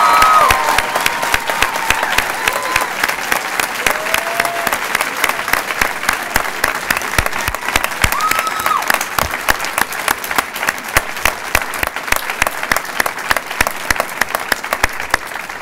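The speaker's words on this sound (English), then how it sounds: "I hope you will join me in a huge round of applause for Barbara" Steady, sustained applause from a large audience at a school ceremony introducing a new head of school, dense clapping throughout at an even level with a few faint voices mixed in.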